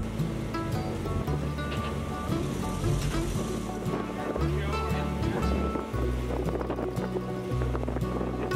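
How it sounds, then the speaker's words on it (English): Ferry MV Marine Voyager crossing the North Atlantic to Grey River, its steady engine drone and water wash rolling continuously beneath background music and talk. "we take a 2-hour ferry ride to the hidden gem of Grey River aboard the MV Marine Voyager."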